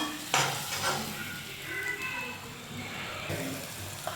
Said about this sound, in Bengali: এটা ভালো করে কষাতে হবে তেল তেল ছাড়া ভালো করে কষাবো